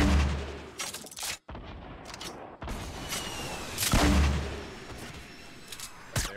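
Fortnite gunshots: a few loud, sharp blasts spaced irregularly, with booming, rushing in-game noise between them.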